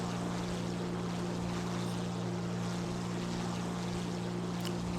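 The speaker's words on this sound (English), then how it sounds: "Look at the grunt of that engine." A Ta 152 C fighter plane's engine drones in War Thunder, a steady deep humming roar with a strong low tone and a wash of wind noise, continuous and even, with no voices.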